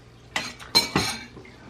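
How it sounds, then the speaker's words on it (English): Mushroom pot roast from an Instant Pot is served into a bowl with a utensil, making a few close clinks and scrapes of metal against the pot and bowl, with no talking. "I'm gonna serve some up in my bowl."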